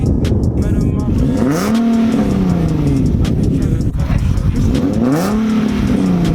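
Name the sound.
Nissan 370Z VQ37 engine revving with muffler delete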